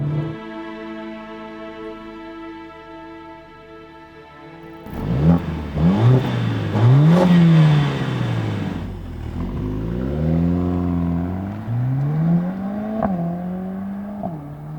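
A 2020 Mercedes-AMG A45 S hot hatch idles with a steady drone, then accelerates hard around the Circuit de Jarama near Madrid, its engine rising and falling through gear changes in a loud, close roar.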